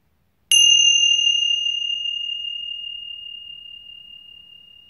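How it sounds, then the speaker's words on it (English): A single meditation chime or bell struck once, ringing out with a clear, pure sustained tone that slowly decays over several seconds in an otherwise silent room. "as we listen to the chimes to start our meditation"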